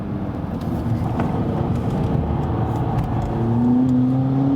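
A car fitted with a Sport Select suspension drives on a racetrack, giving a steady engine drone and road roar that builds into a rising rev near the end, close and fairly loud, with no voices.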